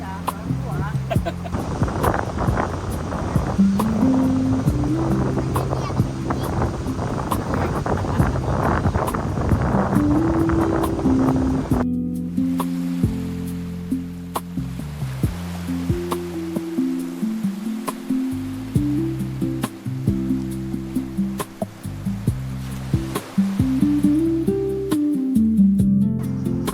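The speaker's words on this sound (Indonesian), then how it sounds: "Sayangnya, semakin sore angin justru bertiup semakin kencang." Strong afternoon wind at a seaside family campsite, gusting and buffeting the microphone in heavy rumbling bursts, with waves in the background and people talking intermittently.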